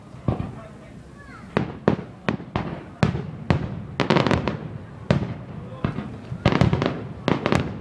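Fireworks bursting at an August night display in Plymouth, a rapid series of sharp cracks and booms with crackling follow-ups, some overlapping, heard from a distance with faint crowd noise underneath.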